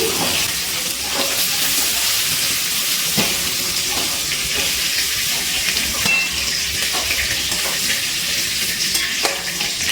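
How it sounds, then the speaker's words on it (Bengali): Diced potatoes, two medium ones, fry in the oil left from frying cauliflower. The loud, continuous sizzle and bubbling runs throughout, with stirring scrapes rising now and then. "এই তেলের মধ্যে আমি আলুগুলো ভেজে নেব"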